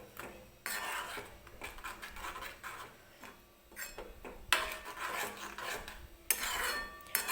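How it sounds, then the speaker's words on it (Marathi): Metal spoon stirring curd with hot spices in a pan for a dahi tadka, scraping and clinking steadily against the metal in close, busy bursts with no talk. "मी दही टाकून घेतलेलं आहे आणि आता आपल्याला हे सगळं मिक्स करून घ्यायचं आहे"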